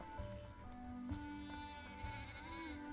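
Sheep bleating in the video game Deiland, a few short wavering calls over a busy layer of game music and ambient sound.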